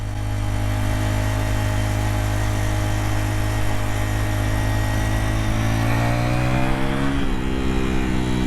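KTM Duke 125 motorcycle engine running steadily at high revs, a continuous close buzzing drone that shifts pitch briefly near the end, with no voices.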